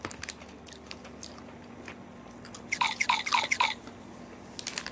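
Crunchy chewing on a hard, thin, slightly sweet snack bought in Sweden, a close burst of several crisp bites in the middle of a quiet room, with small clicks before and after.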